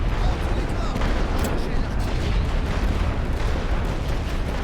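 Continuous heavy artillery and massed gunfire in The Great War: Western Front, a dense, unbroken rumble of distant blasts and rifle volleys with a few sharper cracks, loud and steady throughout.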